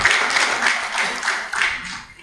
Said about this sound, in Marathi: जोरदार टाळ्या वाजवून आपण त्यांचं कौतुक करूया.